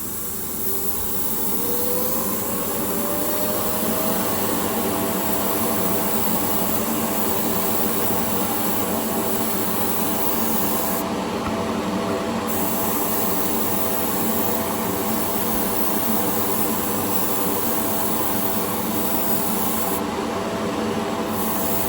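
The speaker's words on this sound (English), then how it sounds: "Forgot to turn my fan on." Steady broadband whoosh of an exhaust fan running in a paint spray booth during a Createx paint job on a Shelby Cobra 427 S/C body, a constant loud roar with a faint rising whine early on and no talk.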